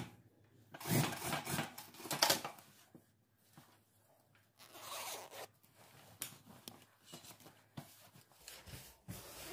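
Zipper on a sailor-collar dress being sewn, rasping in several close, distinct pulls and rubs with short pauses in between, no talking.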